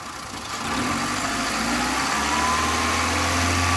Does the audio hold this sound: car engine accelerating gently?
yes